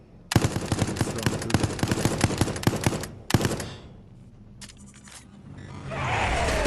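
Rapid automatic gunfire in Resident Evil Resistance: a long, loud, evenly spaced string of close shots, then a short final burst, followed by a quieter whooshing tail.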